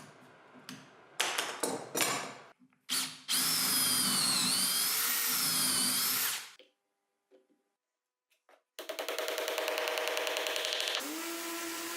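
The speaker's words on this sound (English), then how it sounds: "First, I drill some holes for some dowels that will strengthen the bond." A power drill drilling dowel holes in wood whirs in several bursts, short stops and starts, then a long steady run, a quiet pause, and another sustained drilling stretch.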